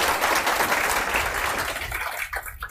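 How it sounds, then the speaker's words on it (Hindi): Crowd applause at a coaching institute function in Bihar, a dense steady patter of clapping hands that stays loud and continuous before thinning toward the end. "चलिए एक बार जोर से ताली बजा दीजिए।"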